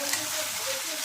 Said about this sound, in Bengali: সুন্দর করে আমি এটাকে ভাজা ভাজা করে নেব